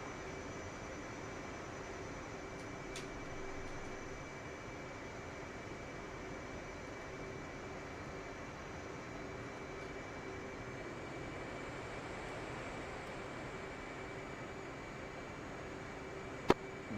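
A jet aircraft in DCS World taxis with a steady, faint engine hum and whine that drones evenly throughout, with no talk.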